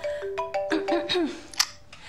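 A phone ringtone plays a short melodic sequence of bright electronic tones, moderately loud and close, ringing on its own for about two seconds.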